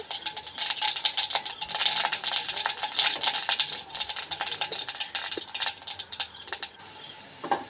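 Mustard seeds pop and crackle in hot oil in a wok, a dense, irregular run of sharp sizzling snaps that briefly thins out before resuming.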